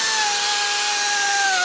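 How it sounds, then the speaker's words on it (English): A drill spins a sanding disc from a 3M headlight restoration kit against a plastic headlight lens, making a loud, steady high whine with a faint tone that falls slowly. No one speaks over it. "So all you do is you start the process of sanding."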